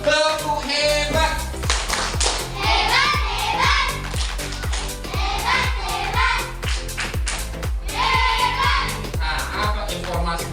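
Schoolchildren in an Indonesian classroom clapping a rhythmic cheer routine, loud repeated claps in a patterned beat with their voices chanting along throughout.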